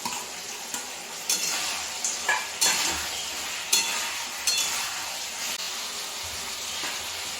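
Bitter gourd and bori fried in a pan, a continuous soft sizzle broken by several sharp spatula scrapes and clinks against the pan at irregular intervals, no talking.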